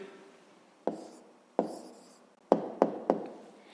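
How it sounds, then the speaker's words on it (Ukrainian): Pen strokes writing an answer on paper during a fifth-grade maths exercise, several sharp taps with faint scratching between them, close and quiet; no talking. "Ну що ж, записуємо відповідь."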